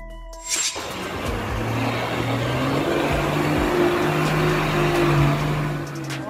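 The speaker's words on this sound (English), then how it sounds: "Dump truck." A dump truck engine starts with a brief thump and then holds a loud, rough, steady roar with a slowly rising tonal hum underneath, close and continuous.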